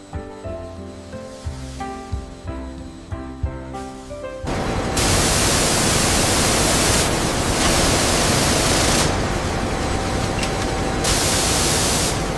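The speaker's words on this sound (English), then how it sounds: "Start washing, full coverage across the surface." Factory spray washing of a zebra leather hide, a loud steady rushing hiss of water jets that switches on abruptly and runs continuously, dipping slightly in bursts, after a stretch of background music.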